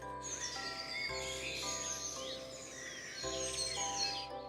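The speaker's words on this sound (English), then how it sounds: "So you can hear the birds chirping there." Ambient birds chirping in a Minecraft alpha mod, a layer of fairly faint, continuous tweets and calls over a steady background hum.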